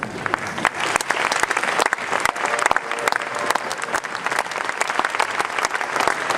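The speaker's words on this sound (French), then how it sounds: "Les gens applaudissent spontanément." An audience at a company celebration claps spontaneously, a lively, continuous burst of many hands with crisp individual claps throughout, loud and sustained.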